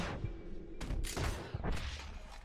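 Several loud pistol gunshots in Red Dead Redemption 2 come at irregular intervals, each sharp crack followed by a rolling echo.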